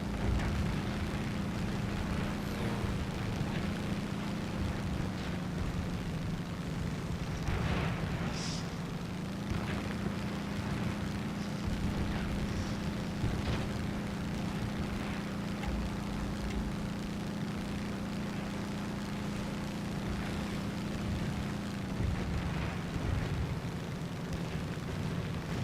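A P-47D fighter's piston engine drones in War Thunder, a steady low rumbling hum that holds for the whole stretch with slight shifts in pitch and a few faint clicks and bumps over it.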